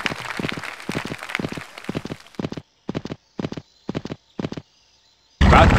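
Hooves of a horse clip-clop rhythmically in a horse-riding video game, a steady run of sharp beats that thins into evenly spaced single strikes before a burst of noise at the end.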